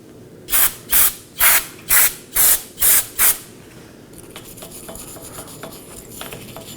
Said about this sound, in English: I'll be using some brake clean and a wire brush